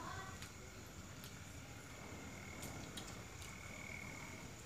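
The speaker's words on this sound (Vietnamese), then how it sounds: "Ớt nhái nó kêu quá." Frogs calling at night in a rural Vietnamese province, a dense steady chorus of croaks with occasional sharper calls, continuous and moderately loud throughout.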